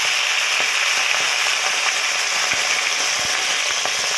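Cabbage stir-frying with pounded chili and garlic, a steady loud sizzle and crackle with occasional soft clicks of a spatula against the pan.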